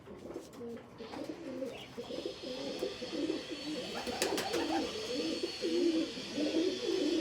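Soft, repeated pigeon cooing in low throaty bursts, continuing steadily throughout with faint background hiss and occasional higher chirps.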